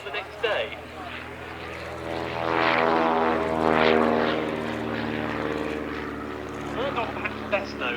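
A US Army L-19 observation propeller plane flies past at an air display, its engine drone swelling and fading steadily under continuous talk.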